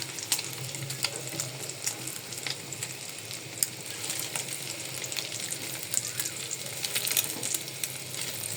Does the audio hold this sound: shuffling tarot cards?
no